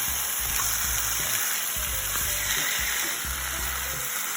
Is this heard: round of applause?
no